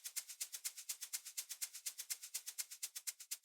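Repeated percussion hits with a long release tail, left loose rather than tightened, in a dance-music production; a steady fast train of bright, hissy strikes, each decaying into the next, close and alone.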